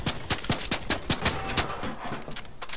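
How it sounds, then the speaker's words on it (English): Rapid bursts of suppressed gunfire from a silenced weapon in Fortnite, a quick run of sharp muffled cracks at close range, fired in uneven clusters with no talk. "Shooting a silencer at you."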